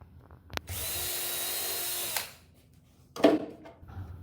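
A power drill whirs steadily for about a second and a half after a sharp click, pre-drilling a screw hole in wood, winds down, then a brief clattering thump follows.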